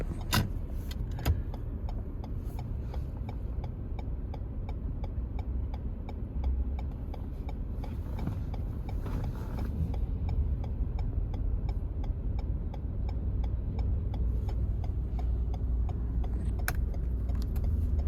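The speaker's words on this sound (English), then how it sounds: "Look at that jam-packed traffic." Steady rumble of dense New York City traffic in the Bronx on a Friday night, engines idling and creeping close by with a continuous low drone and occasional faint clicks, no voices.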